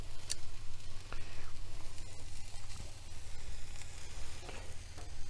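Onions sizzle in a stir fry pan for a tofu and udon noodle dish cooked in a van, a steady close hiss over a low hum, broken by a few faint clinks.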